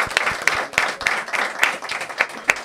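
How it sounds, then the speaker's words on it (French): Audience at a live podcast recording clapping together, a dense patter of many hands at moderate loudness with sharp individual claps standing out, continuous for a few seconds. "On peut applaudir Noah, par contre, s'il vous plaît."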